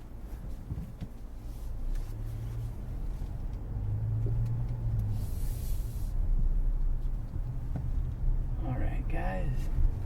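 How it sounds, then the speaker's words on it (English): A 2019 Mazda CX-9 Grand Touring SUV on a test drive, steady low engine and road rumble from inside the cabin with a person talking over it throughout. "let's just get on a test drive so you can actually see what it can do"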